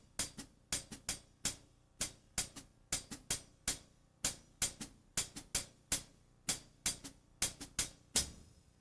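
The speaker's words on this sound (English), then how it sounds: "the two hi-hats together make up a busier hi-hat part" Two crisp hi-hats play a busy, steady 6/8 clave-based pattern, accented strokes repeating in even groups, with a deeper halftime snare hit landing near the end, dry and close.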